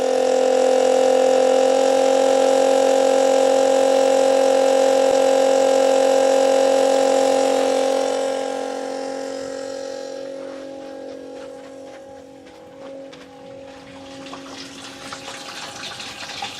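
An inexpensive 12-volt DC fresh water pump, wired to a 12-volt battery, runs with a loud, steady motor whine and tonal hum for about eight seconds, then drops in level as water flows, continuing more quietly with a rushing, gurgling texture.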